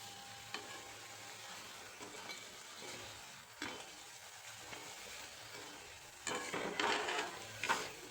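Onion manchurian pieces frying in hot oil, a steady soft sizzle with occasional stirring scrapes and clinks of a utensil against the pan, louder bursts near the end.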